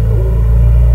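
Heavy low rumble of busy road traffic, loud and steady, a continuous deep drone filling the background with no voices.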